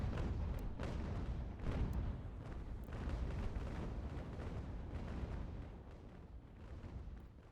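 Cannons fire in a naval battle in an American Revolution strategy video game, a dense rumbling barrage of booms that rolls on steadily for several seconds before easing slightly.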